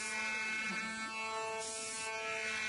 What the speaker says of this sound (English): In the close-up of the machining, you'll see it steps down about 4 millimetres in each pass.